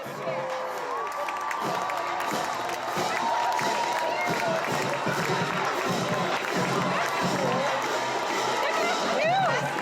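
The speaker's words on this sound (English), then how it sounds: "Let's give a big cheer for the Costa cheer team on their float." A crowd at a high school football game cheers and shouts for a cheer team riding on a float, with children's yells and whoops amid continuous noisy cheering, people talking under it throughout.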